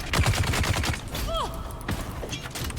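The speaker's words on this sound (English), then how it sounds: "It's got pistol whipped by a Gatling gun." A Gatling gun in the Dune Awakening video game fires a rapid burst of closely spaced shots that fades after a second, followed by quieter in-game mechanical and whooshing effects.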